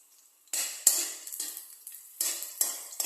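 Garlic and onion sauté in a pan for ginisang monggo with alugbati, a crisp sizzle that flares in bursts as the pan is stirred, close and fairly loud, with no voices.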